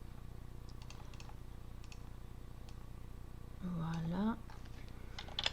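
Typing on a computer keyboard gives faint, scattered key clicks in irregular bursts over a low background hum, and a voice briefly speaks partway through.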